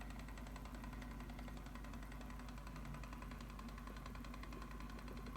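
A custom 1958 Corvette with carbon fiber inner fender wells idles up close, giving a steady, even engine drone that runs unbroken and at a constant level throughout.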